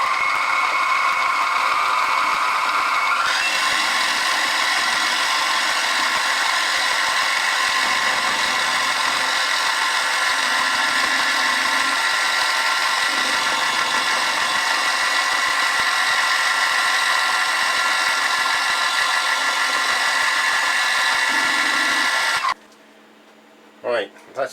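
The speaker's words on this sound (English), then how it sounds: "now I can just come around and chamfer off all of those little edges" A milling machine cuts chamfers along the edges of a workpiece for an adjustable vice stop. A steady, loud high-pitched whine and cutting noise runs for over twenty seconds with short low shifts, then the machine stops abruptly.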